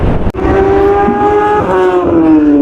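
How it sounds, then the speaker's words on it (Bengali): A loud superbike engine revs up close, its pitch climbing steadily after a sharp click, a high-powered whine that holds and rises. "এখানে সুপার বাইকের সব সাউন্ড"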